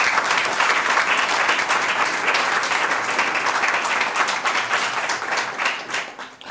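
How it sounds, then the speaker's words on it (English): An audience claps warmly for a speaker, a thick, continuous wash of applause from many hands that stays loud throughout and tapers a little toward the close. "I think we need to clap again for her."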